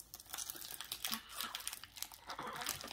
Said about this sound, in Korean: 비닐을 잡고 뜯어봐.